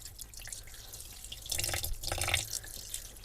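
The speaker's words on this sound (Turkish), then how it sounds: "Evet, balıklarımızı yıkayacağız" Silver fish are washed under a running kitchen tap: steady splashing and dripping water, growing louder and busier midway as the fish are rinsed, close up with no voices.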